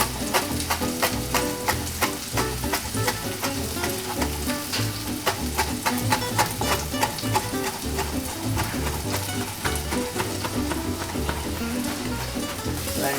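Garlic and mushrooms fry in a pan for a mushroom omelette, a steady close crackle and sizzle with rapid popping throughout, no voices.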